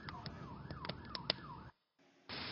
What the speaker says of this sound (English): The last thing he heard was the sound of approaching sirens.